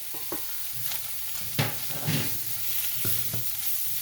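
Whole cumin, coriander powder and other spices frying in a pan, a steady hiss broken by several sharp scraping stirs of a spoon against the metal.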